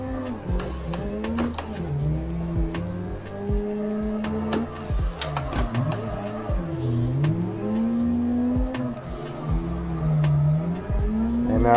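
A drift car in the racing game Assetto Corsa, modded, at a drift matsuri event: a loud, continuous engine revving up and down through shifting pitches, with tire squeal and skidding throughout and no talk.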